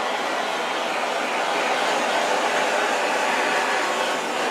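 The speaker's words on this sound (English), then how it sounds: "I'm going to torch really quickly" Steady, loud roaring hiss of a torch playing over acrylic paint on canvas, continuous and unbroken throughout with no talking.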